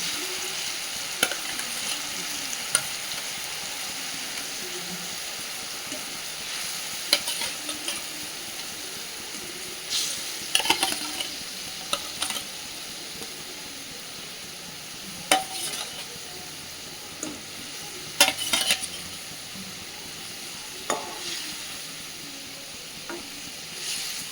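Pieces of rohu fish sizzle in a pan of tomato-based curry. A steady, fairly quiet frying hiss runs throughout, broken by scattered clicks and scrapes as the fish is stirred, with no talk.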